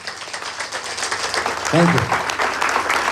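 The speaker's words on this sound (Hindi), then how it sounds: "जोरदार तालियों से उनको खड़े होकर हम सम्मानित करेंगे" An audience at a business event applauds steadily, a dense wash of clapping throughout while someone speaks briefly over it.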